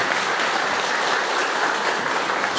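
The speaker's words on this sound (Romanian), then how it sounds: "Vă rog aplauze, Petre." Applause from a concert audience at a village show in Abaclia, a dense continuous roar of clapping that is loud and even from start to finish, with no talk over it.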